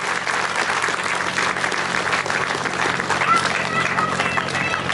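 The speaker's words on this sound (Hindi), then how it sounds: "खुद के लिए जोर से तालियां बजाइए" A large audience at a Hindi motivational talk claps loudly in a dense, unbroken wall of applause that keeps an even level for several seconds, with faint crowd murmur underneath.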